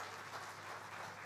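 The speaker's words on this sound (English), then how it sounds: "A big round of applause." Audience at a defence conference claps in a steady, continuous round of applause, heard at a moderate distance with no voices over it.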